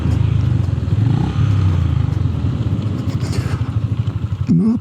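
A Honda GB 350 S motorcycle's exhaust thrums steadily at close range on a ride, a low pulsing single-cylinder beat with a brief rising rev near the end; a voice speaks briefly over it.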